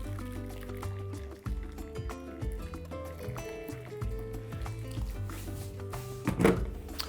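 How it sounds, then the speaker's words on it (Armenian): Boiled water is poured from a kettle into a pan for blanching green beans, a quiet continuous liquid fill and trickle heard under steady background music. "Եռացրած ջուր ենք լցնում տապակի մեջ"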